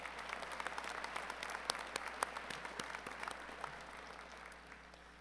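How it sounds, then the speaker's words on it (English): Applause rings out for an honoree at the Northcentral Technical College fall commencement ceremony, a dense, steady wash of many hands clapping with some sharp individual claps, slowly tapering, heard from a distance in a large hall. "One more round of applause for Tom"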